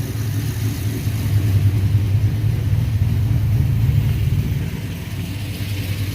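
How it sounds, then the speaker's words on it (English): A G-body car with a newly upgraded intake manifold runs on a test drive, its engine a steady low rumble throughout, swelling slightly in the middle before settling back, with no talking over it. "I'm gonna take it for a little run, test drive, and just see how she running"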